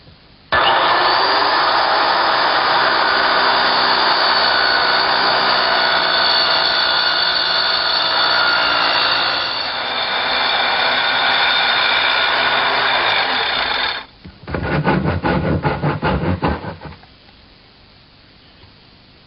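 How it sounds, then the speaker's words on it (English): A circular saw plunge-cutting through plywood: a loud, steady, close whine that runs for about fourteen seconds, cuts out briefly, returns for a short second burst, then falls to quiet. "Position the saw over the line and then slowly plunge it through the material."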